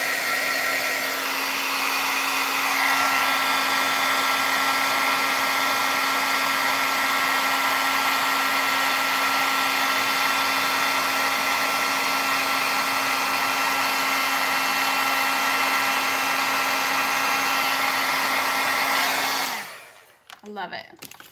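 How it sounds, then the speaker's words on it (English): An embossing heat gun runs with a steady, loud blowing whir and a constant hum for about twenty seconds, then cuts off abruptly near the end, leaving a brief clatter. "I'm just warming up my embossing heating tool"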